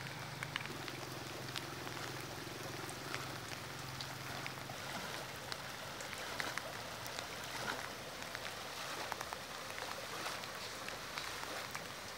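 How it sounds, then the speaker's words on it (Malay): Heavy rain falls in Kuala Dungun on the Malaysian coast, a steady, soft broadband hiss with scattered faint drop ticks and no voices. "hujan mula turun dengan begitu lebat sekali."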